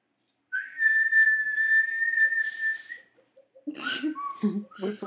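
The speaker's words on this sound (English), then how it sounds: "Do the two-finger whistle." A person blows a two-finger whistle, one long sustained high shrill note held for a couple of seconds, followed by a pause and then talking and laughter.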